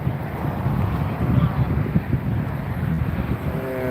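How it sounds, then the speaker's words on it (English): Steady wind buffets the microphone with low rumbling gusts at Los Angeles International Airport, and a faint engine-like hum drifts in near the end. "It's windy."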